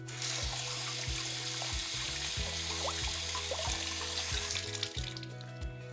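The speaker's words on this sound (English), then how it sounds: "Instead, you'll want to rinse the produce under cool, running tap water." Cool tap water runs steadily into a sink as fresh produce is rinsed beneath it, a constant splashing hiss under light background music.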